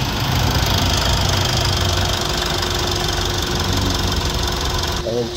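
Mitsubishi Montero Gen2 engine idles steadily right after a start, a loud, continuous close-up rumble with a faint knocking texture, while a person talks over it.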